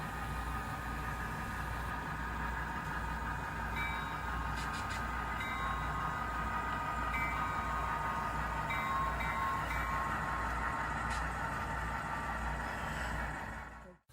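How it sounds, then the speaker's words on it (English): Model railroad passenger trains meet at a depot, producing a steady, continuous running hum with faint higher whines and clicks, fairly quiet, with no voices. "we have the northbound train from Remsen meeting the southbound train at Thendara"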